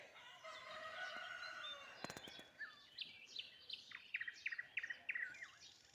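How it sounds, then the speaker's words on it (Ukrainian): Birds sing and chirp outdoors, with repeated bright whistled phrases and tweets building in the second half over a soft background hiss. "Як співають пташки."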